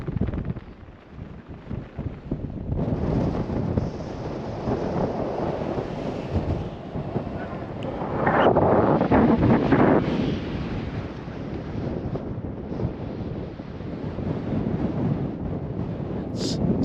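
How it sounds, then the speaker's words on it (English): Strong mountain wind gusts buffet the microphone in rumbling bursts, swelling loudest in the middle before settling into a steadier roar. "It's got a bit windy though."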